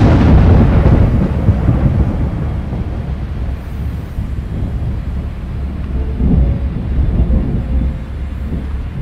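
Deep rolling thunder in the video game A Quiet Place: The Road Ahead, a loud sustained rumble that swells at the start and keeps booming low and heavy, with a gusty storm wash behind it and no voices.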